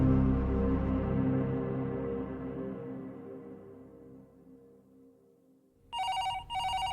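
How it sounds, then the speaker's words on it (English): A low, lingering tone fades away, then near the end a telephone starts ringing with two quick bright trilling bursts. "when the phone rang"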